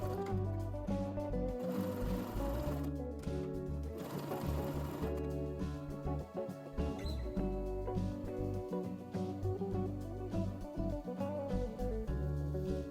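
A sewing machine stitches a zigzag understitch on knit fabric for a dress sleeve, running in a steady fast mechanical whir with brief changes in pace, close and prominent.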